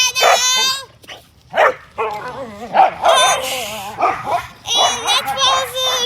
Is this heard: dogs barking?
yes